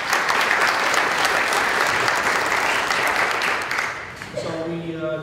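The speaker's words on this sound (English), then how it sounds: "give yourselves a round of applause for that" A Charter Day crowd applauds itself in a long wash of dense clapping that tapers off in the final second, when a voice starts talking.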